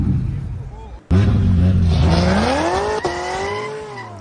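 An LS V8 car accelerating hard, a sudden loud onset of engine roar rising steadily in pitch, with a quick shift-like dip before climbing again, close and dominant.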